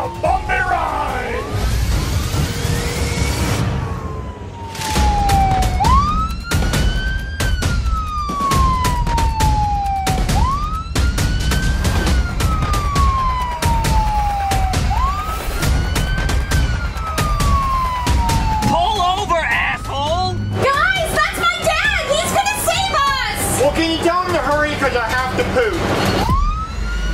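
A police car siren wails in long repeated rising and falling sweeps, loud and close, over a rumbling engine and road noise during a car chase, with short knocks and clatter throughout.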